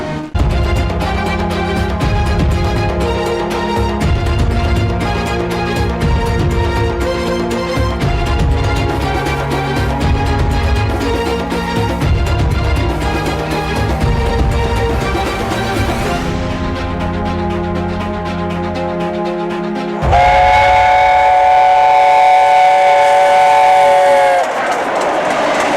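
At Edinburgh Waverley Station, trains rumble and clatter loudly along the platforms with a sustained engine drone, then a bright horn or whistle blasts near the end, all without talk.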